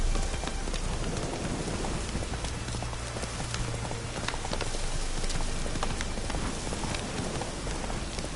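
Horse hooves clip-clop steadily through heavy rain in The Witcher 3, the rhythmic trotting blended into a constant dense hiss of rainfall on the ground.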